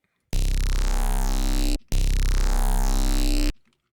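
A low C bass note from a sampler instrument in Ableton, tuned down, sounds twice as sustained, buzzy tones with a rich low end, each held about a second and a half, separated by a brief gap, with no talking.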